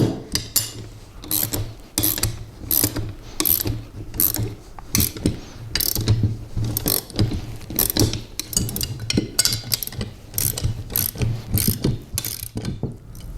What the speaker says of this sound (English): grab your 3/4 inch wrench and your adjustable wrench, and you're going to go ahead and tighten down those bolts